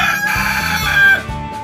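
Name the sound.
chickens and rooster crowing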